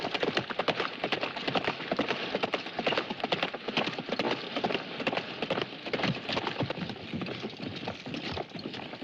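Horse hooves clip-clop continuously through a film scene, a busy rapid patter of many hoofbeats at moderate level with a faint rain-like hiss underneath and no talking.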